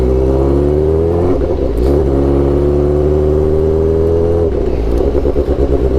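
Straight-piped Suzuki GSX-R600 sport bike engine revving loud and close, a steady harmonic drone that climbs in pitch, dips briefly, then rises again, with no voices over it.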